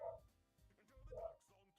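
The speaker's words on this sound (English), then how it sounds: "You can hear my dog barking on my mic." A pet dog barks from downstairs, faint and muffled through a microphone, with two or three short bursts of yipping barks separated by brief pauses.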